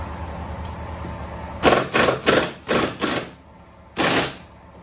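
Five quick metallic strikes in a rapid burst, a pause, then one more hit, loud and close against a quiet background: hammering a front sway bar link onto a Dodge Magnum or Charger.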